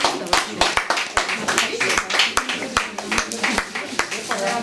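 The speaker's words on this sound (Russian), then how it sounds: "Еще раз, пожалуйста, наградите аплодисментами наших." Audience applause at a Family, Love and Fidelity Day event comes as steady, rhythmic hand claps, fairly close and loud, with voices talking over them.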